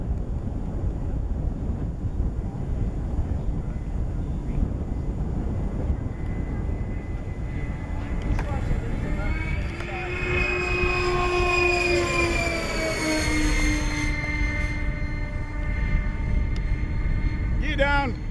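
A large twin 127mm EDF remote-control MiG-31 jet flies a low pass outdoors, its turbine whine rising and then sweeping down in pitch as it passes over, with wind noise and people talking throughout.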